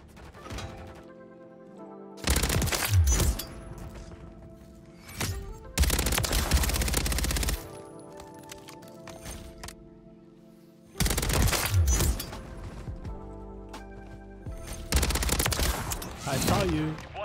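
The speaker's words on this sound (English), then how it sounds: "Back on some SMG here on Vista, trying out the new SMG." FJX Horus SMG fire in a first-person shooter on the Vista map: several loud, rapid automatic bursts, each a second or two long, with quieter game ambience and mechanical clatter between them.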